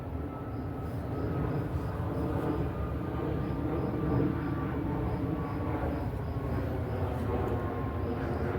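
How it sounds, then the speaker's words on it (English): A propeller airplane passes overhead during an evening walk through a nature preserve, a steady broad drone holding at an even loudness throughout, with no talk over it. "We have an airplane flying overhead."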